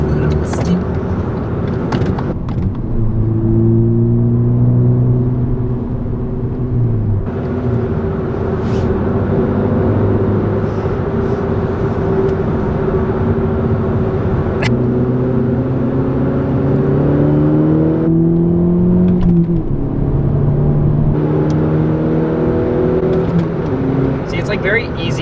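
A Volkswagen Mark 6 GTI drives along with a continuous engine drone that rises and falls through gear changes and revs, heard from inside the cabin while people talk over it.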